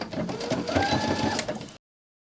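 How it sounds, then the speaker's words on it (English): A sewing machine runs steadily while stitching fabric for an ear-warmer headband, a close, continuous mechanical whir with a rapid needle rhythm that stops abruptly after under two seconds. "Then we're going to sew, make sure to backstitch at the beginning and end."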